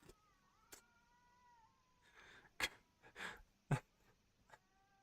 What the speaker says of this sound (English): There's a cat saying something in the back.